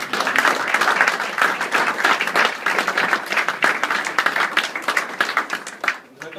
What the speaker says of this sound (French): je vais vous demander de vous applaudir